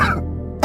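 A single short, breathy cough bursts out at the start and trails off, followed by a brief quiet pause and then a second sharp cough rasp at the end, close and fairly loud, in a home drama scene.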